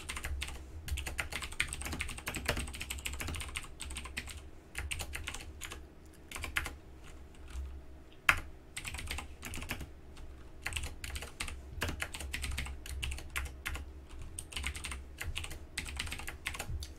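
Close, steady typing on a computer keyboard while a small Python program is written in IDLE, with irregular clusters of key clicks, brief pauses between bursts and one sharper tap midway, and no talking.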